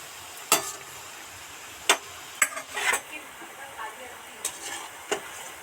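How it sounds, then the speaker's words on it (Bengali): Coconut and poppy-seed fritters fry gently over a low flame, a soft continuous sizzle broken by scattered sharp clinks and scrapes of a spatula against the pan. "লো ফ্লেমে আস্তে আস্তে বেশ ধরে ধরেই ভাজছি"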